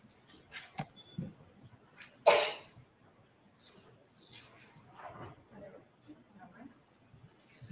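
One sharp, loud sneeze bursts out amid quiet, echoey courtroom sounds and scattered low voices during a trial.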